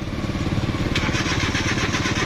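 A multicab vehicle drives through floodwater on a Davao City street, its engine running steadily and fairly close with a rough, pulsing drone and a faint hiss of water.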